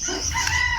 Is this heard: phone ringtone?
no